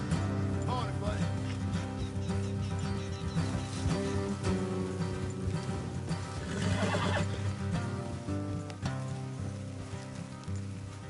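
Horses whinny and neigh in the Red Dead Redemption 2 video game on PS4, loud, drawn-out calls over a dense, continuous game soundscape with faint rain-like patter.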